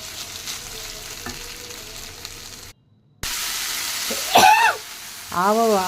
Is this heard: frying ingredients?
yes